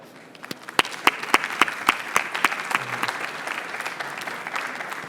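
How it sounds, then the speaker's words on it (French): An audience at a conference on aeronautics digitalisation applauds the panelists, crisp distinct claps close by over a growing bed of wider clapping that swells and then settles, with a faint voice briefly underneath. "je vous demande de les applaudir"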